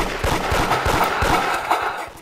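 Rapid gunfire from a player shooting in the Roblox game Da Hood, a dense, loud burst of repeated shots in quick succession with no talking over it.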